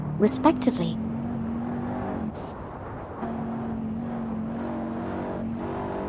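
A TVR Tuscan S and a Lamborghini Murcielago SV race in a video game, their engines holding a steady droning tone that drops briefly during a gear change, while a commentator talks over them.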